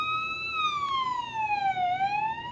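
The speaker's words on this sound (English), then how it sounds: "The police siren 2 is the one that I think sounds most like the actual police." A police siren from a rugged smartphone's siren app, one wailing tone that sweeps slowly down and then starts to rise again, loud and clear over a faint background hum.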